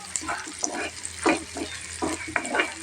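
Drumstick (moringa) leaves are poured into hot oil in a pan, producing a series of short, close bursts of sizzling and rustling.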